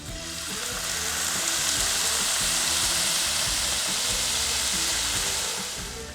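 Reserved pineapple juice hisses and bubbles in a hot pan with bacon and pork chops, a steady loud sizzle that holds evenly throughout.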